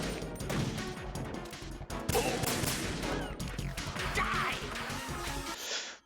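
Gunfire and crashing impacts from the Metal Gear Solid 2: Sons of Liberty video game, a dense, loud burst of shots and smashes filling the whole stretch without a break.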